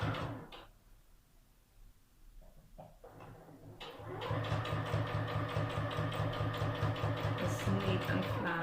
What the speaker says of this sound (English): Close it and just keep sewing.